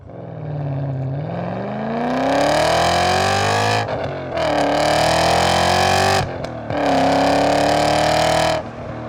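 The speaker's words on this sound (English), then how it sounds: "a push of the button closes the valve to produce this exhaust note" BMW M5 with its exhaust valve closed, the engine revving in three rising bursts separated by short breaks, a smooth, muted, steady drone close by with no one talking.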